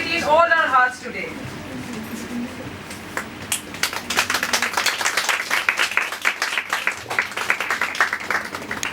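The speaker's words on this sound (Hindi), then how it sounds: "तालियां बजती रहें।" An audience at an innovation council's World Entrepreneurship Day event starts clapping after a short stretch of talk, the applause building into irregular, fairly close claps from a modest crowd.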